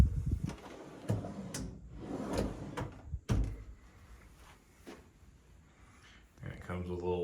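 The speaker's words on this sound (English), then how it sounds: "a couple of pull-out drawers" A couple of pull-out drawers sliding open in a Crockfords East hotel room closet at Resorts World Las Vegas, giving several close wooden knocks and rolling slides, with faint talk in the background.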